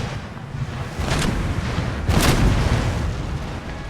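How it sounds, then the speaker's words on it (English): Cannon artillery fires in a war strategy game set in the American Revolution, with two booming blasts about a second apart over a rumbling battle background, no talk. "I need to tell the cannons to stop firing at will, and then tell them to fire at will again"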